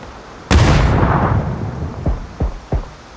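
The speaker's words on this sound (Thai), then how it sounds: "ระเบิด" A loud explosion in the PUBG video game bursts out and rumbles for about a second, followed by three sharper, shorter blasts in quick succession.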